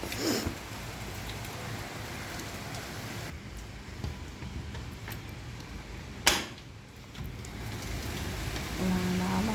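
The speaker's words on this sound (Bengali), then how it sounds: "বারান্দায় আসাই যাচ্ছে না বৃষ্টির জন্য" Heavy rain pours outside a home balcony with a steady broadband hiss, punctuated by a couple of sharp clicks or knocks. A faint voice may be present.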